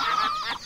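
A chicken clucks in the farming game My Time at Portia, a short run of quick close clucks, with no talk.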